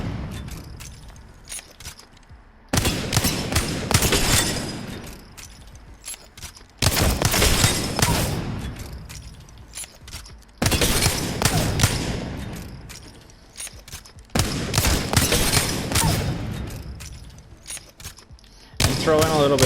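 Wingman pistol fired at bots in a video game warm-up: sharp, heavy shots come in bursts a few seconds apart, each loud crack followed by a decaying tail.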